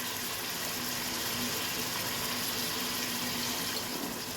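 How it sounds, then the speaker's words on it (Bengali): A little water is poured into a pan of spiced biryani masala and yogurt, giving a continuous, even splashing and rushing sound close by, with no talk. "দিয়ে সামান্য একটু জল দিয়ে দেবো।"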